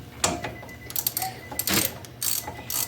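A ratchet clicks in short rapid bursts while bolts are tightened on a car during spark plug wire and ABS sensor work, with brief pauses between runs of close mechanical ticking.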